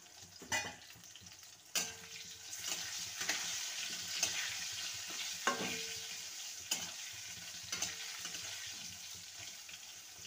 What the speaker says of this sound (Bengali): বেগুনটাকেও হাই ফ্লেমে ভেজে নেব।